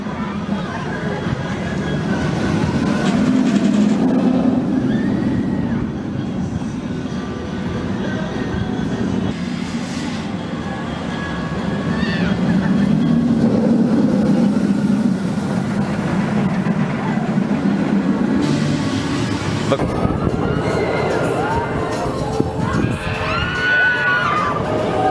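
The Penguin Trek roller coaster train at a busy SeaWorld Orlando rumbles and rattles along its track in long swelling passes, with distant rider screams and people talking nearby.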